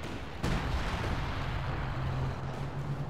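A KV-2 heavy tank's big gun fires in the Company of Heroes 2 strategy game, one sudden deep boom followed by a long rumbling decay under steady battle noise, at moderate distance and fairly quiet.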